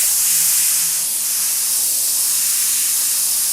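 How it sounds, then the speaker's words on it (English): A steady, close hiss of spray paint from an aerosol can, sprayed lightly and continuously onto a beveled-edge piece of artwork without pause, loud and alone with no talking. "So I'm just lightly spraying this in, getting the basic concept where I want this to be."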